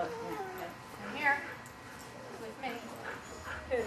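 A dog at agility training whimpers and cries in short, faint yips. People talk in the background.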